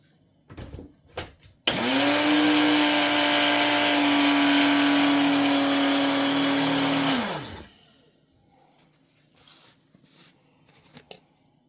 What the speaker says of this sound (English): I'm gonna blend this up, this flour I have left over.